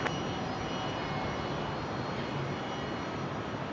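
Jetstar Airbus A320 on its takeoff roll at Brisbane, bound for Launceston: a steady, broadband jet roar that holds constant and fairly distant throughout, with no voices present.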